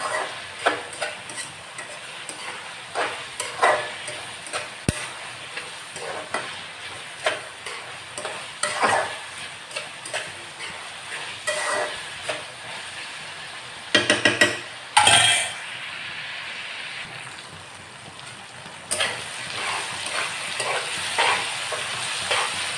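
Prawn gravy curry sizzles in a pan over high flame as a utensil scrapes and stirs it in repeated strokes, with a few louder clanks partway through and steady frying underneath.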